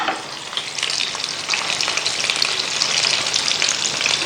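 Chopped garlic frying in oil with a little butter, a steady, close and loud sizzle that crackles and spits throughout, with stirring mixed in and no voices.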